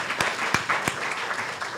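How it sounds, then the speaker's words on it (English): Audience applause at a university event celebrating a doctoral occupational therapy class, a short burst of steady crowd clapping with a few sharper claps standing out, moderately loud and without speech. "I think that's a great reason to be proud and a great reason to applaud."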